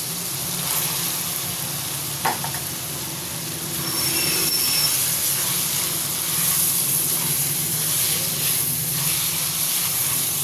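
Sizzling frying of capsicum just dropped into hot, well-roasted masala with garlic and ginger, a steady broadband hiss that swells louder partway through and holds, close and continuous with no talk.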